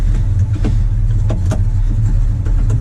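A 1970 Chevy C10 pickup engine runs loud and close, with a low steady rumble and a few quick throttle blips rising over it.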